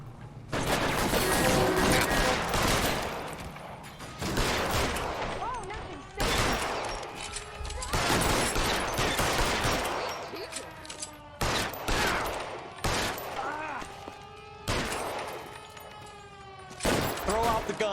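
Loud volleys of gunfire rattle in repeated bursts through an L.A. Noire gunfight, separated by short pauses, with in-game characters shouting over and between the shots.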